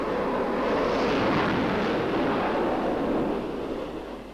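Jet aircraft engines spool up together on the flight deck of the aircraft carrier Enterprise during the Vietnam War, a loud, steady broadband roar that swells and holds, with no voices.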